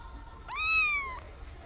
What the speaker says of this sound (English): I guess she wanted y'all to hear her meow.